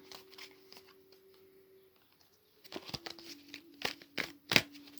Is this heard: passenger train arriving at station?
no